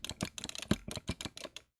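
Commodore 64 joystick held close to the microphone, giving a rapid run of about a dozen sharp plastic clicks at an uneven rhythm, loud and near, with no talk over them.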